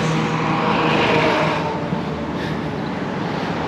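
Road traffic on Front Beach Road in Panama City Beach, Florida, a steady wash of passing cars at moderate distance, louder in the first half then settling into a softer continuous rumble.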